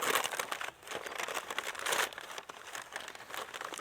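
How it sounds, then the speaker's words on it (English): Paper crinkles and rustles steadily as wrapping paper is pulled off a WW2 military surplus helmet, close and fairly quiet, with short pauses between handling bursts. "let's take a look and see what that helmet is in the wrapping paper"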